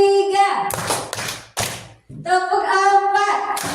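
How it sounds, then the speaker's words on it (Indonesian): A group of adults at a teacher training session claps along in a counting rhythm led by a presenter, short bursts of claps separated by pauses, heard under and between the leader's sung-out counting voice. "tepuk satu, tepuk dua, tepuk tiga"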